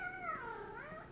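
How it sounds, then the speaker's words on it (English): A house cat gives one drawn-out, falling and rising meow, faint and brief, alone in a quiet room. "that's my cat."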